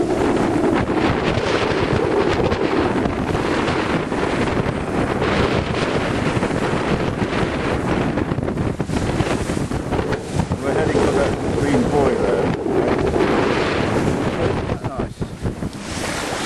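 Breeze buffeting the microphone aboard a Harrison Butler yacht leaving Falmouth harbour on an outgoing tide with the engine running, a loud, constant wind rush mixed with water noise from the hull.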